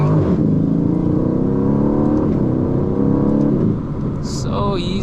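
An Aston Martin Vantage sports car accelerates hard, its engine note climbing loudly and steadily through the revs before easing off, with a brief voice heard near the end.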